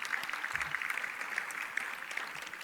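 A seated audience gives a round of applause at a speaking event, a soft, fairly distant patter of many hands clapping steadily throughout.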